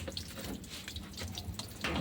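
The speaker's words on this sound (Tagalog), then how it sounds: "Binuksan ko lang yung tubig." Tap water turned on and running through a 15-meter garden hose, a steady close hiss of flowing water with small splashy drips, continuous and fairly quiet for the whole stretch.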